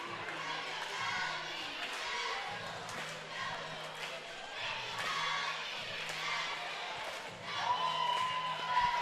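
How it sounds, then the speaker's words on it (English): At a high school basketball game in a gym, boys and the crowd cheer and yell steadily from a distance, a continuous roar with occasional thuds and a sneaker squeak, swelling louder near the end. "Both boys' team are out cheering like crazy out for the girls"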